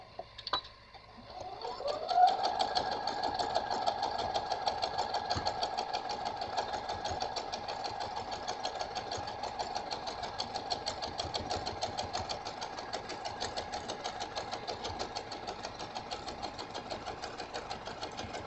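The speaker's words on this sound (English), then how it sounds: "now I'm going to stitch these two pieces together" A sewing machine joins two fabric scraps with a long, continuous, even whir, its motor starting up and then humming steadily and fairly close.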